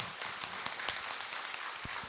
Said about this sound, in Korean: 네, 박수로 맞으세요